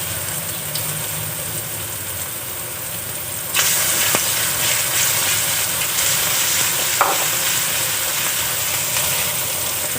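Crab frying in a pan with ginger and margarine: a steady sizzle jumps louder as the crab drops in, then a dense, continuous frying hiss with occasional stirring clatter, close and without talk.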